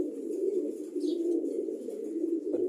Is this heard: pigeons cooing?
yes